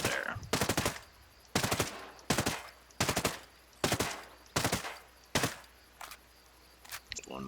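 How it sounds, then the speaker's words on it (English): Full-auto assault rifle fire in the Ghost Recon Breakpoint shooter game, short loud bursts repeating about every three quarters of a second with brief pauses between them, sharp and close. "Now this one here only supports burst fire and full auto"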